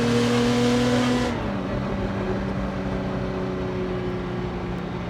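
Ferrari F50 fitted with a Capristo exhaust, a loud, continuous engine drone whose pitch drops slightly early on and then holds steady, close by with no speech.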